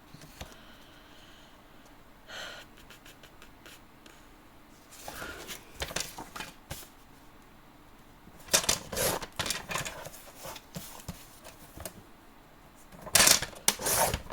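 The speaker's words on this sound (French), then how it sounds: "Là, il faut que je recoupe ma carte." A paper card for an accordion pop-up album is trimmed in short, quiet bursts of crisp cutting and clicking, separated by near silence and growing a little sharper toward the end.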